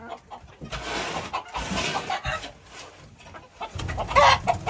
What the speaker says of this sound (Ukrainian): Вже кури тут всі нервничають